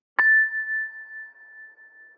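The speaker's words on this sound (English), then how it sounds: "gave it some sustain by adding a long reverb tail, and modulated that sustain slightly with a really slow chorus and flanger" A processed sample with a long reverb tail, slow chorus and flanger strikes once as a bright metallic ping, then rings on as a steady sustained tone that slowly wavers and fades over two seconds.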